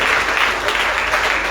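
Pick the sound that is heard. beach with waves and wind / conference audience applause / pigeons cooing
conference audience applause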